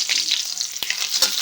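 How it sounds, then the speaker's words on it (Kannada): Cumin and mustard seeds hit hot oil and crackle, making a bright, close, continuous sizzle with small pops and one sharper burst near the middle, and no voices. "ಇವಾಗ ಎಣ್ಣೆ ಕಾದೈತಿ ನೋಡ್ರಿ. ಇದಕ್ಕೆ ಜೀರಿಗೆ ಸಾಸಿವೆ ಹಾಕೊಳ್ಳೋಣ ಅಂತ."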